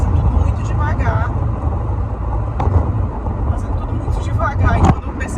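Steady low road rumble and engine drone inside a car on the drive to work, continuous throughout with a voice talking over it.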